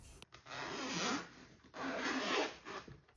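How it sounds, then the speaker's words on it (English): A zipper on a Bose QC45 headphone case is drawn along in two quick, smooth pulls with a short pause between, close and clear with no talking. "The QC45 zip feels faster and smoother"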